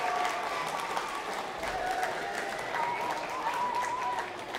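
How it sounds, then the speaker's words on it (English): Audience applause at an elementary school cultural program, steady and fairly loud crowd clapping that holds throughout without letting up. "Let's give one more big round of applause for Advika."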